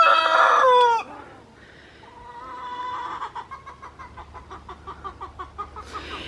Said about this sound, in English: He is an absolutely fabulous cockerel.